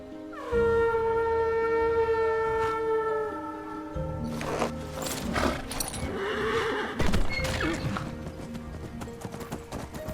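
A horse in the video game Skyrim gives a long, loud whinny and then trots up with clip-clopping hooves amid game sound effects, and a voice speaks over part of it.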